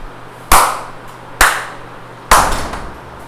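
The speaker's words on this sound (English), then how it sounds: "clap" Three sharp, loud hand claps spaced about a second apart, each crisp and close with a short ringing decay, in an otherwise quiet classroom lesson on action words.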